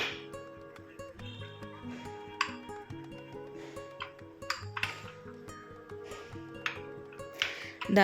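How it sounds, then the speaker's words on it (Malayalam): Spoon stirring chocolate into hot fresh cream in a bowl to make ganache for a no-bake dessert: repeated light clinks and scrapes against the bowl, close and fairly soft, over steady background music. "ദാണ്ട് ഇതേപോലെ നല്ല രീതിയിലൊന്ന് മിക്സ് ചെയ്തെടുക്കാം"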